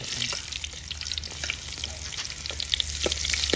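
Steady crackling sizzle of shallots frying in hot oil, continuous and close, with small pops and spatters throughout.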